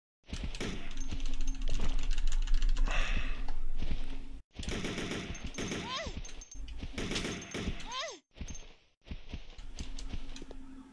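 Gunfire aimed at moths in Resident Evil Code Veronica X, rapid repeated shots in several bursts broken by brief silent gaps, set against dense game noise and someone talking throughout.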